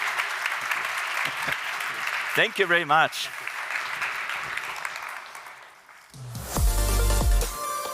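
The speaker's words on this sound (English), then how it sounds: "Big applause." Audience applause after a panel discussion on immersive experience versus simplicity, a steady broadband clatter running through most of the clip, briefly interrupted by a speaking voice near the middle and a louder burst of talk and noise at the end.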